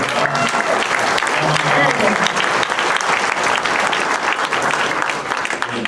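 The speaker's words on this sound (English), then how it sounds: "would everyone give her a round of applause?" Sustained, dense applause from a crowd, steady and loud throughout with a few cheers mixed into the clapping.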